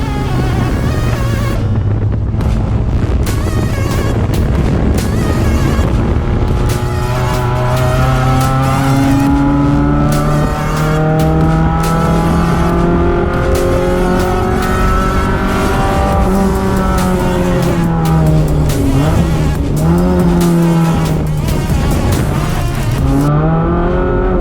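A race car laps the Mallala circuit, its engine loud and close from an onboard view, revving through rising and falling gear changes with wind buffeting throughout and no talk.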